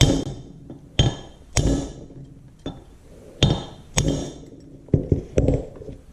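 Metal hammer taps seat a part with a C-clip retainer during restoration of an IHC Farmall Super MTA tractor governor, about eight sharp ringing strikes spaced irregularly, close and clear with no talk.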